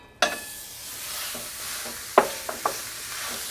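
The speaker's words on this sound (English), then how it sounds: "So I'm going to start out by browning my ground beef." Ground beef browning over medium heat in a stainless steel brazier, a steady close sizzle broken by a few sharp clanks and scrapes of the utensil against the pan.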